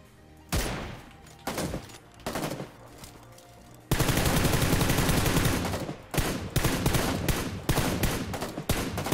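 Gunfire in PUBG Lite: a few single loud shots at first, then a dense burst of rapid automatic fire followed by more sharp, repeated shots, close and loud.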